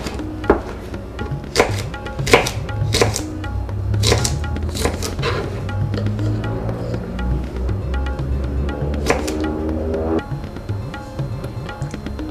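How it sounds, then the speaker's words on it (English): Knife chopping okra (bhindi) into half-inch pieces on a board, a series of sharp close taps in irregular rhythm with softer scraping and handling noises between cuts. "you just cut about half an inch all the way through"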